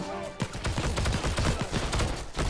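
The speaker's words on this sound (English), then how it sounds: "That guy just running around shooting each other with pistols" Rapid pistol gunfire from a World War II–style online shooter, Heroes and Generals, with a dense run of sharp shots crackling back to back, some overlapping, loud and close.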